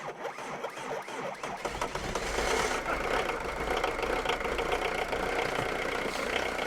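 A one-owner 1995 diesel engine, left sitting for eight years, cranks and catches, then settles into a loud, steady, slightly knocking idle heard up close with no talking.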